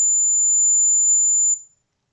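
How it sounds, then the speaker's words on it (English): A single high-pitched electronic buzzer, wired in place of an LED on an IoT demonstration circuit, sounds steadily for about a second and a half, then cuts off into silence. "When I will place on, buzzer is on."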